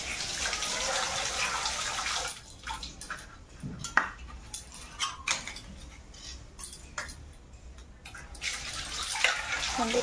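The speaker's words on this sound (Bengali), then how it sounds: "কড়াটা ধুয়ে নেব।" A wok is washed under a running kitchen tap, with a steady rush of water broken by clinks and scrubbing knocks of metal, then the water flowing again, close and moderately quiet.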